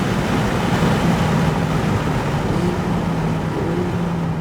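A Lamborghini Huracan accelerates hard on a track, its engine a loud, continuous low roar with rising tonal harmonics as the revs climb, close and steady throughout.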